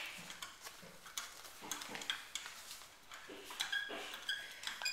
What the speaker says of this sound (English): That's right, keep stirring.